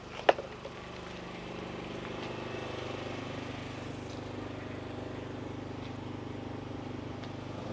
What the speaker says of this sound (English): I'm just standing next to a generator.